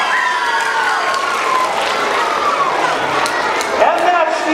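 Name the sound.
school audience applauding at a magic show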